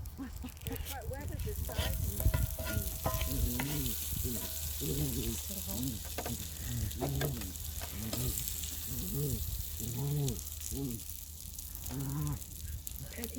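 Homemade burgers sizzling steadily as they fry in a pan, a constant hiss under people chatting nearby.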